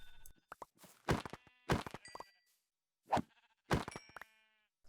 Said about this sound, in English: I continued my adventure and came across a bunch of sheep,